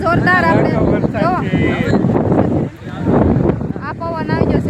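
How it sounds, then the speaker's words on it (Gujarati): Strong gusts of wind buffet the microphone in a continuous low roar that dips briefly midway, while a person talks over it throughout. "જુઓ જબરદસ્ત પવન આવ્યો છે"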